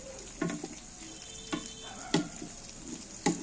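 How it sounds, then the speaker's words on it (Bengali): Tomatoes and green chilies frying in a pan for aloo dum, stirred with a spatula in a few separate scraping strokes over a low sizzle, quiet and close, no talk. "টমেটো দিয়ে কাঁচামরিচ দিয়ে এখন নাড়াচাড়া করছি"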